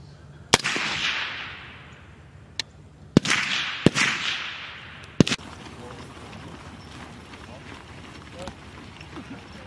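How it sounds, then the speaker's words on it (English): Rifles fire on a Marine close-quarters shooting range, with several sharp, loud cracks at irregular intervals, each followed by a short echoing tail, and a voice speaking between the shots. "Line is hot. We're firing at the bottom target."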